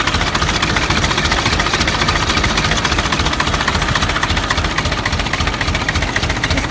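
An Ostrówek K-162 C-360 tractor engine idles steadily at about 400 rpm, a constant rough, knocking rumble close to the listener with no talking over it.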